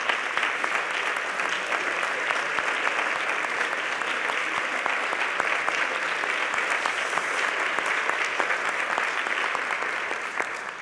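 An audience at a student forum and awards ceremony gives a long, steady round of applause, dense and even from start to finish, with no voices over it.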